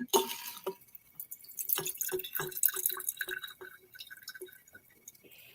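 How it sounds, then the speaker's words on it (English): Liquid pouring into a new jug, heard as a run of close, trickling drips and splashes with a glassy ring, fairly quiet and without talk. "I have a new jug that I can pour the liquid into."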